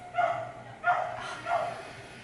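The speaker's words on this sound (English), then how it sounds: "My neighbor's dog is barking." A neighbour's dog barks three times in a row, each bark a loud, ringing burst with short pauses between, heard from a short distance indoors.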